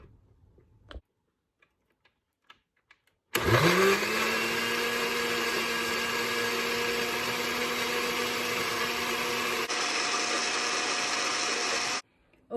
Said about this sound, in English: So all these ingredients go into the blender.